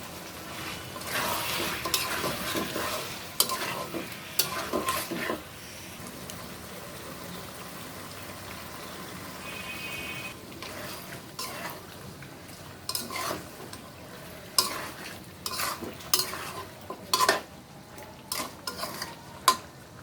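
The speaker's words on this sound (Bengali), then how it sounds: "মাংসটা কষানো হচ্ছে" Chicken pieces for a thin chicken curry being sautéed in a pan with lemon juice, a spatula stirring and scraping in irregular bursts over a steady close sizzle, with no voices.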